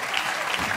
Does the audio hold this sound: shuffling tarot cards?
no